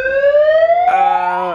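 A Supreme megaphone in siren mode gives a loud, piercing electronic wail that climbs steadily, then shifts to a harsher, brighter tone before cutting off abruptly.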